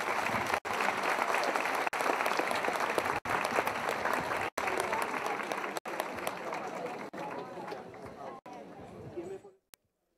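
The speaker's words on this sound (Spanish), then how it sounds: "Démosle un fuerte aplauso." Loud, sustained applause fills a church congress hall after a call to welcome a cardinal, dense clapping with scattered voices and a few sharp breaks, then cutting off abruptly near the end.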